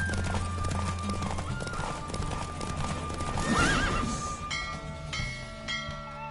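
Video game horse galloping with rhythmic hoof clip-clops, a loud whinnying neigh midway, over background music and ambient game sounds.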